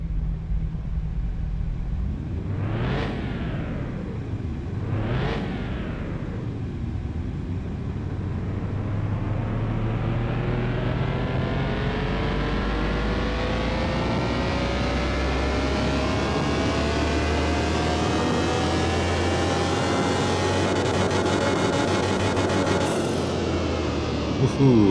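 A simulated car engine revs on a dyno in Car Mechanic Simulator 2021, first two quick sharp throttle blips, then a long steady climb in pitch through the gears toward a high-revving peak, with a voice faintly underneath.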